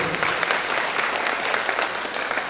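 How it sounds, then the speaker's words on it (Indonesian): An audience at a regional government gathering for National Santri Day applauds the DPRD in a dense, even, moderately loud patter of clapping that holds steady throughout. "Tepuk tangan untuk DPRD Tangga Bus."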